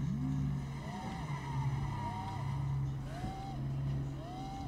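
A Lamborghini Aventador with a naturally aspirated V12 starts up in the Roblox Drive World video game. A steady, loud engine hum runs throughout, and repeated rising revs swell and fall back about once a second.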